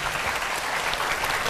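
A small group claps together in a brief burst of steady applause.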